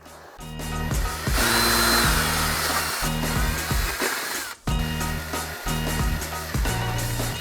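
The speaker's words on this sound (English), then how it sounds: "I went ahead and drilled out all the holes" A power drill bores holes for M4 deck inserts, running loud and steady for several seconds with a brief pause partway through.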